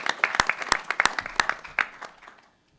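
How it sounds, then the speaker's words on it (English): An audience applauds at a talk on Black radicalism, a dense wash of many hands clapping with a few sharp, loud claps standing out, then fading away toward the end. "Give me a round of applause for Tom Morello."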